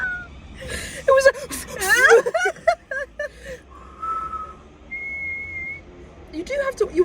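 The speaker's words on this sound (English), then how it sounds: "I've never tried that hard to whistle in my life." Someone strains to whistle, producing breathy, wavering tones and a few short sustained whistle notes, mixed with gasps, chuckles and people talking nearby.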